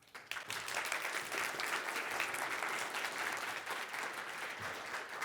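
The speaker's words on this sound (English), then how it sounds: "We still have clapping." An audience at the Arbinger Summit 2019 leadership conference claps together in sustained, dense applause that starts abruptly and keeps going at an even level.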